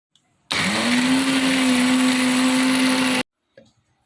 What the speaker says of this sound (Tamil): இந்த பேஸ்ட்டை இது கூட போட்டு அரைச்சிக்கலாம்